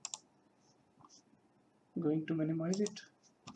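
Soft, quick keyboard clicks come from typing on a computer while working in Kali Linux, scattered and faint, with a person speaking briefly partway through.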